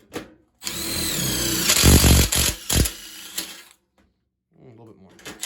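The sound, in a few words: drilling a hole in a boiler flue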